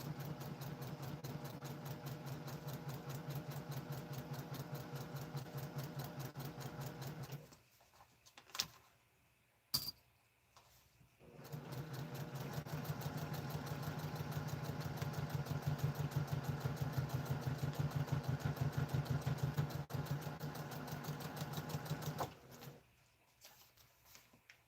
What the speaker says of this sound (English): Okay, then just sew along on the line,